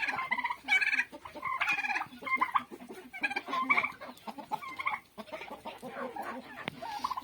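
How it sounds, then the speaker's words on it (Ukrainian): Several chickens cluck and chatter continuously nearby, overlapping calls in a busy flock, with occasional gobbling from turkeys mixed in. "Такі цікаві ці курочки маленькі."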